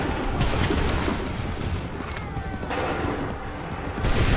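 A musket volley fired on command in Assassin's Creed III roars as a dense, loud burst of gunfire that rolls into continuous crackling shots and booms, with a fresh blast near the end.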